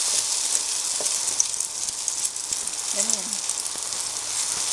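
Tuna patties (tortang tuna) fry in a pan with a steady, close, bright sizzle throughout, while a voice speaks briefly over it.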